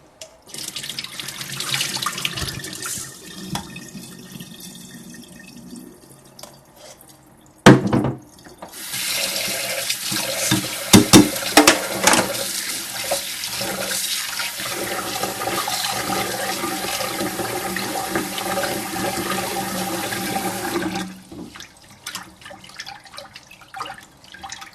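Sushi rice being washed by hand in a bowl of water, with a steady running tap and sloshing, rubbing grains swirling under the stream, a brief pause near the middle before the water flow resumes loudly and continues.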